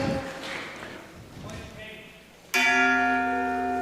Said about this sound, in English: We got Thomas here on the death knell